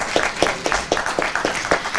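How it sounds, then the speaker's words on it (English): An audience applauds bioeconomy innovators at an online awards event with thin, sparse clapping from a few hands, set in an uneven rhythm and sounding small and somewhat distant. "And applause for all of you, guys."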